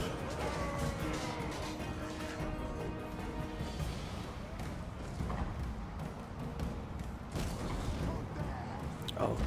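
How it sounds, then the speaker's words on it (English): Artillery cannons pound away in a massive Total War Warhammer battle of zombies against Ironbreakers, a loud, dense wash of booms, crashes and clatter running continuously with sharper blasts near the end. "Look at these cannons going to town"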